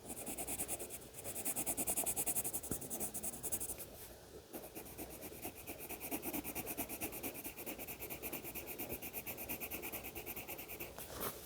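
Steady scratchy strokes of a colored pencil shading a second layer onto paper, filling in a drawn Yule log cake around a whipped cream spiral; continuous close rubbing with a brief pause midway, no talking.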